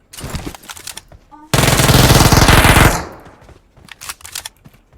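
Automatic gunfire in a PUBG Mobile match on Erangel, one loud sustained burst of rapid shots standing out from quieter scattered game noise and faint background sounds.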